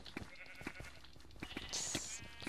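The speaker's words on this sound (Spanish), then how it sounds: "Las ovejas. Entra, ovejita, entra." Sheep in the Minecraft video game bleat in a quick, clear series of wavering calls over a busy background of clicks and taps, fairly close and steady, with no talk.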